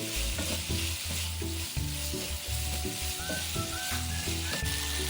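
Curry pork belly stir-fried dry in a wok, without coconut milk, gives a steady, close sizzle throughout, with periodic stirring scrapes and a low musical bed running underneath.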